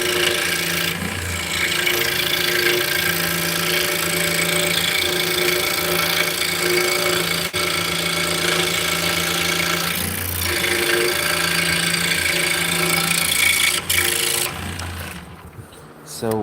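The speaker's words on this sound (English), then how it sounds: "So I'm just going to cut the outsides out." A scroll saw cuts out the outer edges of wooden pieces, its steady buzzing drone running continuously and close, with brief pauses in pitch before it cuts off near the end.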